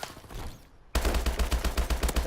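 Rapid automatic fire from the HBRa3 rifle in the shooter game Call of Duty: Advanced Warfare: a brief quiet lull, then a loud, steady stream of close gunshots with a punchy low thud under each round.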